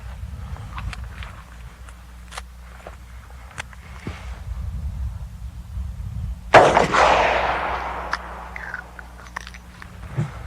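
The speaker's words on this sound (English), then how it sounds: "Next we'll try a 110 grain jacketed hollow point 38 Supervel." A single sharp gunshot from a .38 Super Vel firing a 110 grain jacketed hollow point round cracks out midway, then fades through a long rolling decay over a low steady background hum.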